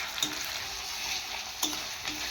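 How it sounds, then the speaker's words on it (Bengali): Fried onions with ginger garlic paste sizzle steadily in a pan, a constant close hiss broken by a few brief scrapes of a spoon being stirred. "দিয়ে ভালোভাবে একটু নাড়াচাড়া করবো, মানে কাঁচা গন্ধটা চলে যায়।"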